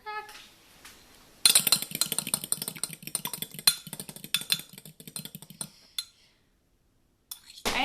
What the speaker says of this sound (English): we're just going to beat in our eggs